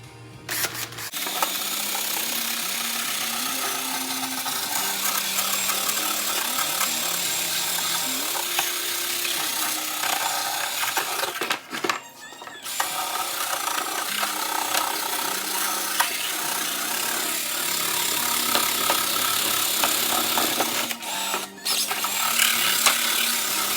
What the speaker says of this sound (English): we're going to do a pretty good scuff up all around this area here